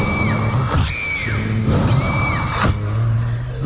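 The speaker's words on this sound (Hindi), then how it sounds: "दर्द के मारे कलीथा जमीन पर बैठकर चिल्लाने लगी।" A woman's pained screams rise and bend in repeated wailing cries as a horror-story sound effect, loud and sustained over a dense, droning background.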